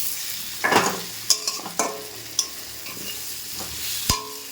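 A metal spatula stirs frying food with ground spice paste in a pan at home: separate scraping and knocking strokes at an uneven pace over a soft, close sizzle.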